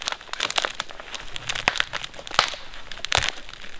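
Damp, punky rotten wood crumbles and crunches under handling at a winter wild camp, a run of soft irregular crackles and snaps close by with no talk.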